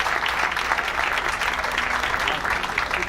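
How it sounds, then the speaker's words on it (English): Audience applause for a choir at an Armenian Genocide commemoration event in Montebello, California, with steady dense clapping from a sizable crowd that holds even for a few seconds. "Another round of applause for the Alex Choir."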